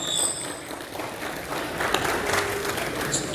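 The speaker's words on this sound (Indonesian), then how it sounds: "Tepuk tangan, ya." A crowd applauds with dense, steady clapping throughout, moderately loud and sustained from start to finish.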